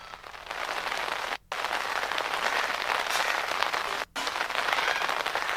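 Steady heavy rain pours down continuously in Shamli on a cold day, a dense close hiss with two brief dropouts and no voices.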